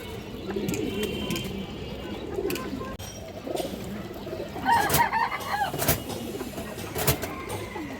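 Female Army breed pigeon cooing softly among other pigeons and birds, with low murmuring calls in a busy setting and faint chirps throughout.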